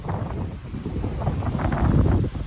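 Strong gust in a 20 to 40 mph windstorm, roaring and buffeting against the microphone with a rising, turbulent rush, loud and close with no clear talk.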